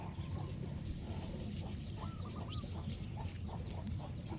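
Chickens clucking and murmuring softly at a distance over a low background rumble, scattered calls throughout.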